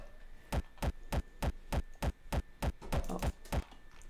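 Hard, distorted Frenchcore kick drums thump in a steady fast rhythm, about a dozen punchy hits with a gritty tail, loud and alone.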